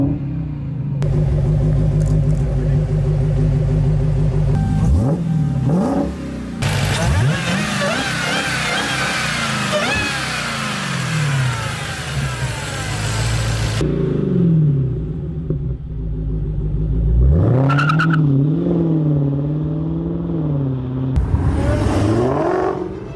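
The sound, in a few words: Mopar 6.2 Hellcat Hemi engine revving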